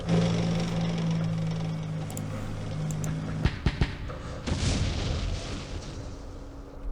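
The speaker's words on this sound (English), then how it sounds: "Let's hit that with the mortars." Mortar fire in the war game Campaign Series Middle East: a steady drone gives way to a few sharp thumping reports, followed by rumbling blasts that swell and fade.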